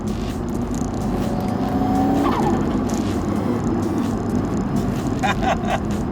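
Classic performance car at speed: a steady, loud roar of engine and road noise with a brief tire squeal partway through.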